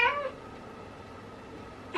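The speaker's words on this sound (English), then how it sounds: "I've been saving like cat sounds on TikTok to call him in here" A cat's meow played back from a phone rings out loud at the very start, then fades into a quiet indoor room with only faint background noise until a brief sound near the end.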